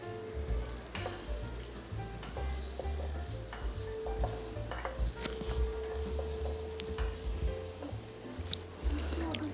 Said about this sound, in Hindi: चिकन को अच्छी तरह से फ्राई करना है हमने लहसुन के साथ